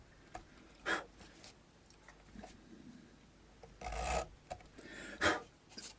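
A file rasps back and forth over jumbo gold fret wire on a Vintage V100 guitar being re-fretted, in a few separate bursts of scraping strokes with short quiet pauses between them.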